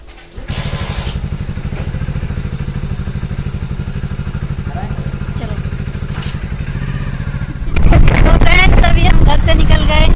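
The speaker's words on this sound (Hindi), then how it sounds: "तो फ्रेंड्स अब हम चल दिए हैं और हम बाइक पर बैठ गए हैं चलो।" A motorcycle carrying a rider with two small children as passengers pulls away, its engine putting out a steady close chugging drone that grows louder and rougher near the end as it speeds up, with wind noise over the top.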